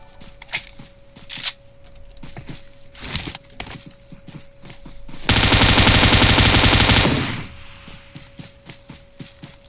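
In PUBG Mobile, scattered single shots and footsteps give way to a long, loud continuous burst of AKM rifle fire lasting about two seconds, with sparse sharper shots before and after.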